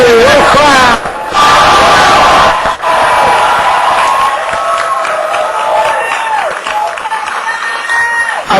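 A loud crowd claps and cheers at a 2010 election night celebration party for Ron and Rand Paul, dense sustained applause with shouts and whoops, a voice breaking through now and then.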